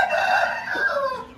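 A rooster crows once, loud and close, its drawn-out call rising then trailing off.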